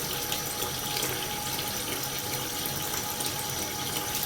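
Tap water running steadily into a sink as hands are rinsed, a dense continuous splashing rush close by with no pauses.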